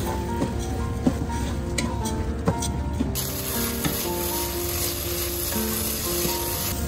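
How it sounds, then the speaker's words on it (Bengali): Washed rice and lentils fry lightly in spice paste for bhuna khichuri, giving a steady close sizzle with occasional stirring scrapes and clinks of the utensil. "দিয়ে চাল আর ডালটা হালকা একটু ভেজে নিব।"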